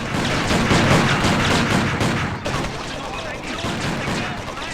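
Beretta pistol gunfire in the video game Driver: Parallel Lines comes as loud, dense bursts of shots that crowd together into a continuous barrage, with a brief dip midway.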